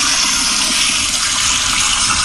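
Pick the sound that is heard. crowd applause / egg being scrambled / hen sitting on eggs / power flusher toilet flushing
power flusher toilet flushing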